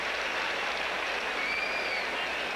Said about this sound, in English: Crowd reacting to one of the ball kids that had trouble collecting a loose ball.